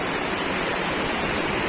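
Sea waves at Mui Ne beach in Vietnam wash in as a steady, close, broadband rush of surf with no pauses and no voices.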